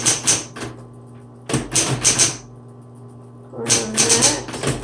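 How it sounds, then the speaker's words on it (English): Bursts of rapid key strikes clatter on a 1970s Smith Corona Coronet Auto 12 electric typewriter, three close, loud typing runs separated by pauses over a low motor hum. "let's go ahead and give it a go on our typing"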